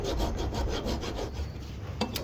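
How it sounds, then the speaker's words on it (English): A file is worked steadily back and forth along the flat top ridge of a spey blade on an Opinel No 9 folding knife. The rasping strokes run continuously and close up, with no talk. "I'm trying to get that flat. You can see me filing away."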